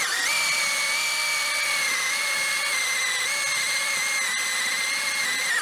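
A power drill fitted with a pipe reaming bit cuts into a tight PVC fitting, giving a loud, steady, high whine under load that holds with slight pitch dips and no talking.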